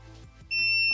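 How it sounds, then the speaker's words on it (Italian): Attila ATF 17.25 LI cordless battery pruning shears give one loud, close electronic beep that starts halfway through and holds steady to the end, after a quiet lead-in. "E tra altri 10 secondi ci sarà il quarto beep."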